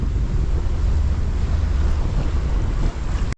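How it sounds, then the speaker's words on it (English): Steady wind rushing past a sailboat tacking upwind, with a broad low roar of air and water that holds loud and even throughout before cutting briefly at the very end. "The wind's dying coming from over the mountain already."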